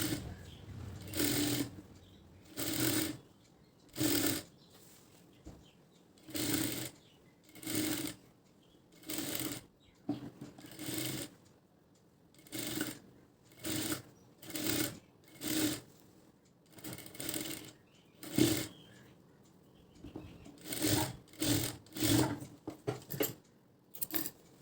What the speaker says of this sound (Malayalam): സൈഡിൽ കൂടെ തന്നെ തയ്യൽ വരണം.